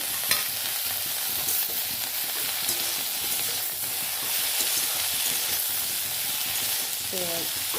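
Food fries with salt and turmeric in a pan, a continuous moderate sizzle with occasional stirring scrapes and a faint clink near the end.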